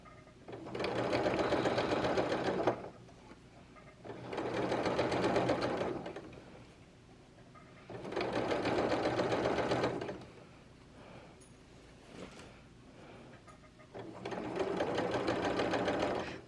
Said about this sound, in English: I'm just sewing close to the edge here so that it'll be easy for the elastic to go through